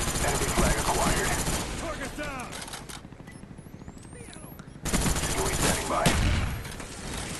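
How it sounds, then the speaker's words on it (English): Rapid gunfire in the video game Call of Duty: Black Ops, dense bursts of shots over a busy game mix, dropping briefly for a reload before firing resumes loudly. "And here I just shot like that and reloaded really quick to take advantage of my dual mag reload the next time."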